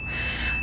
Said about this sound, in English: My egg timer is done.